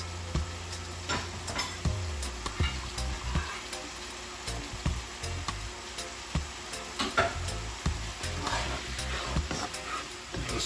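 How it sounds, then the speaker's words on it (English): A spoon stirs a thickening paste in a pot, with steady rhythmic scrapes and knocks repeating throughout, close and moderately loud against a faint sizzling background. "Stir it until it turns to a paste."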